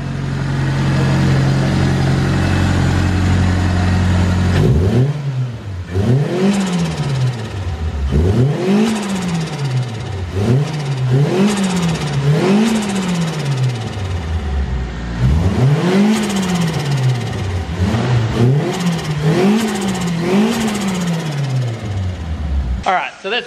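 A Mitsubishi Evo engine with a new aftermarket exhaust revs repeatedly, rising and falling in a rhythmic series of throaty pulls with a deep exhaust note, loud and close.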